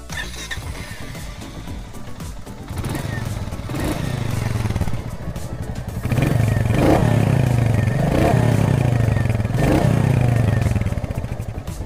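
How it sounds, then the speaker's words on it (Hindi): A Royal Enfield Meteor 350 motorcycle idles with a steady thumping exhaust note, then is revved in several loud, close blips, each swelling and settling back to idle. "मैं आपको इसका एग्जॉस्ट नोट सुनाता हूँ।"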